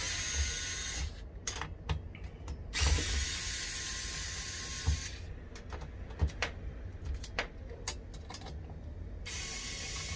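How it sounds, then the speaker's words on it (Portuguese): A screwdriver works four screws out of a Philips Airfryer, giving close, dry ratcheting clicks and small mechanical ticks over a steady background hiss, with no talking. "Só remover os quatro parafusos"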